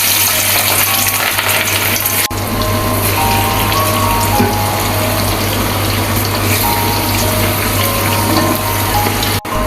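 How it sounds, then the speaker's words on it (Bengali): Hilsa fish deep-frying in plenty of very hot oil over a high flame, a steady, loud, dense sizzle that holds evenly throughout, close up and with no voices over it. "চুলার জাল হাই হিটে রেখে মাছটা ফ্রাই করে নিব।"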